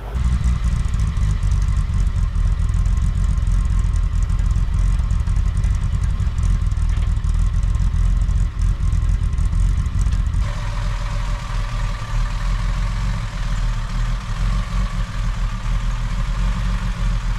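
A 1964 Mercedes 230SL Pagoda with a synchronized manual transmission drives through the gears, its engine droning loudly and steadily throughout, with a clear shift in tone partway through.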